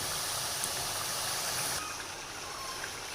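Chicken with spices fries in a pan alongside mash dal, a steady close hiss and sizzle that softens slightly partway through and continues evenly.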